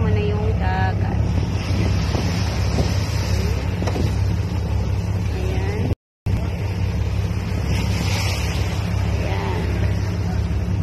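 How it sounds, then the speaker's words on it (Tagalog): Montenegro Lines ferry ship at sea bound for Siquijor, with a steady low engine drone and wind buffeting the microphone throughout, briefly cut out midway, while a voice speaks a couple of words. "andito ako sa barkong Montenegro Lines dahil papunta kami ng Siquijor"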